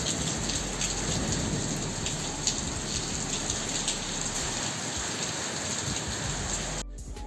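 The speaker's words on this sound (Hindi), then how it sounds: "पूरा खतरनाक बारिश हो रहा है, पूरा बिजली भी चमक रहा है, बारिश भी हो रहा है" Heavy rain pours in a steady, dense roar during a thunderstorm, with continuous hiss and low rumbling throughout and no voices.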